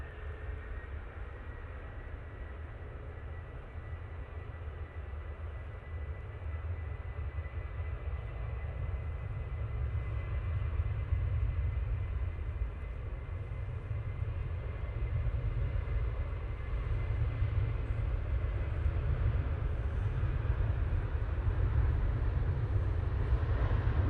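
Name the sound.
Ryanair airplane at Manchester Airport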